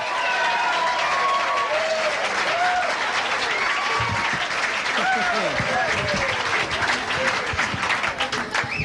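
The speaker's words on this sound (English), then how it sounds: "Let's have a nice round of applause." A comedy club audience gives a round of applause for comic magician Michael Finney, with continuous clapping mixed with whoops and voices, and brief tonal cries rising above the crowd.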